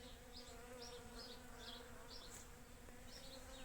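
Bees buzz steadily around a hive in an autumn garden, a continuous droning hum with faint higher buzzing passes, heard alone without talk.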